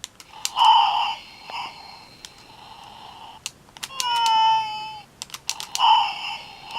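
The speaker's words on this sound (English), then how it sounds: "So it had like a hissing noise and the meowing." A 2001 McDonald's UK Robo-Chi toy cat gives off electronic sounds: short hiss-like bursts and sweeping synthetic meows, in several brief clusters at close range with gaps of quiet between them.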